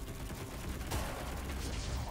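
Gunfire from the video game Darksiders Genesis bursts out as a sharp, loud blast near the one-second mark, trailing into a rumbling wash over a busy background of game noise.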